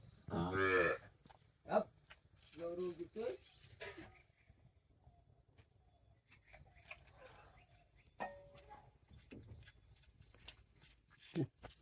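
A calf moos loudly a few times, nearby, with pauses between calls; people talk quietly in between and a faint steady hum runs underneath.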